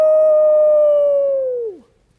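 Several people imitate a coyote howling at the moon during a children's storytime song, one long steady sustained howl that slides downward and fades at the end, close and loud with no other sounds.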